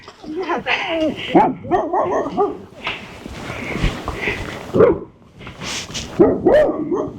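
Several dogs bark and yip in short, irregular bursts, some near and some farther off, amid people talking on a cold outdoor winter day.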